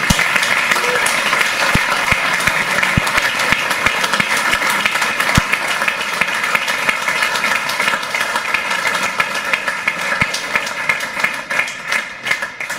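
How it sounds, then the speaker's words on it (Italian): Large audience at a commemorative evening giving a long, loud round of applause, dense clapping continuing steadily and thinning slightly toward the end. "io chiederei un grandissimo applauso a Renzo Sarti."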